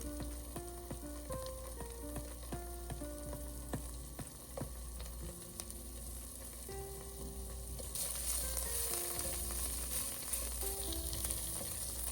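Grated tomato sizzles and simmers in a pot as it is stirred, a faint steady frying crackle that grows a little louder partway through, with soft background music throughout.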